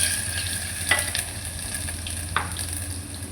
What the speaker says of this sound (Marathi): हिंग टाकला म्हणजे त्याच्यानंतर हे आलं आणि लसूण मी वाटलेलं आहे ते टाकते.